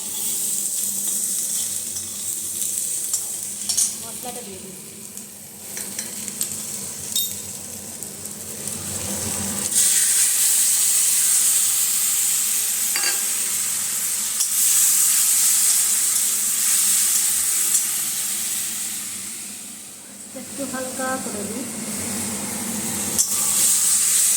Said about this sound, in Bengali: বড়াগুলো ভাজা হয়েছে দেখো সুন্দর ভাজা হয়েছে